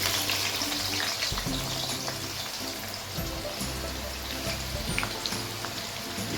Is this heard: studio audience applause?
no